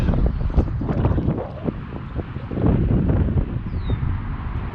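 Strong wind blowing across open water while fishing from a boat, a loud, steady rumbling gust with microphone buffeting throughout, no talk.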